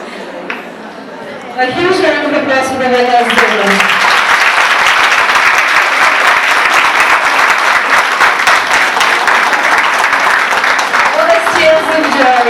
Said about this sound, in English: A huge round of applause for the winners.